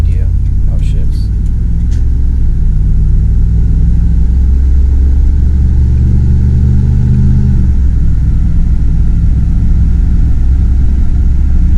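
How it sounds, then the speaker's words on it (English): A 2004 Dodge Dakota LST Club Cab with 117k miles accelerates from inside the cab, its engine drone rising steadily and then dropping as it shifts around the midpoint, loud and continuous. "here I'm going to accelerate again"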